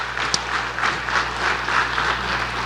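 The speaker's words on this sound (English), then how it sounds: "Let's give him a round of applause" An audience claps together at a public meeting on the Elm and New Orleans revitalization plan, a steady round of applause in a room, continuous and moderately loud, without talk.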